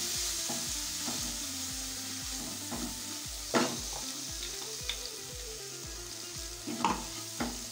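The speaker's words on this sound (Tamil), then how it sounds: "இப்போ இந்த நம்ம பவுடர் இருக்கோம்லங்க, கருவேப்பிலை பொடி பவுடர், இது அவ்வளோத்தையும் போட்டுடலாங்க. அவ்வளோதும் போட்டு மிக்ஸ் பண்ணிக்கலாம்." Curry leaf powder is stirred into a bubbling tamarind mixture for curry-leaf puliyodharai, with a steady sizzle under repeated scraping spoon strokes and a few sharper clanks against the pan.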